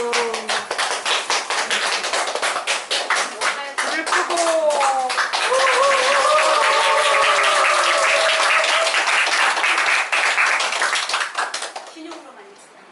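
Clapping and tapping from a small group at a school Teacher's Day gathering honoring a monk, dense and lively over most of the stretch, mixed with children's voices and chatter, then fading out near the end.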